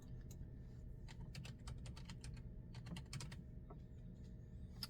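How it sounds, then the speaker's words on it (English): Faint, close keyboard typing in quick irregular bursts of sharp clicks over a low background hum, pausing briefly midway before another flurry of keystrokes. "I'm going to type in overthinking"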